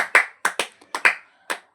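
Several short bursts of hand clapping from a group of children in a classroom quiz, uneven and close, each burst quick and fading within a second.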